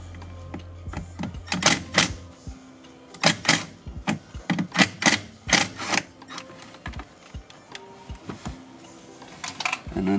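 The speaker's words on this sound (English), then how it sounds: "We're gonna undo the screw." A screw is undone on a dashboard panel of a Toyota Land Cruiser, producing a run of close, sharp ratcheting clicks and taps in uneven bursts, loudest in the middle, then thinning out.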